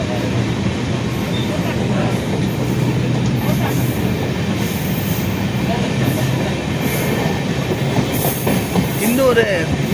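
An Amrit Bharat Express train runs steadily on the line from Mayiladuthurai toward Tiruchirappalli, with a continuous rumble and rhythmic clickety-clack of wheels from inside the coach, plus faint squeals near the end.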